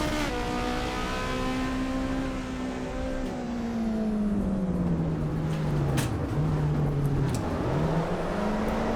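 A race car engine in the Assetto Corsa Evo video game drones loud and steady, and its pitch sags after a money shift down into first gear before rising again as the car slides sideways.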